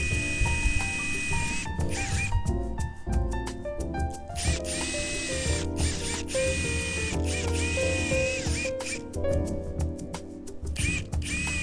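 A drill bores larger screw holes through the wood of a homemade wardrobe. It whines up close in repeated short bursts with brief pauses and clicks between them.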